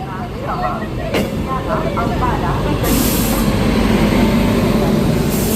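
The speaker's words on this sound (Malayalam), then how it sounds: "നമ്മുടെ ട്രെയിൻ വരുന്നു ഗൈസ് നമ്മുടെ ട്രെയിൻ വരുന്നു ഇതാണ് നമ്മുടെ ട്രെയിൻ" A train pulls into a station on a journey from Kashmir toward Delhi, a loud, steady rumble with rising hiss and brake noise building over several seconds, while people talk nearby.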